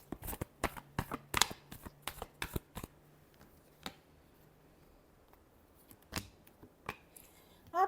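Close, crisp riffling and tapping of tarot cards being shuffled in a quiet room, a quick burst of snaps in the first three seconds, then scattered softer taps.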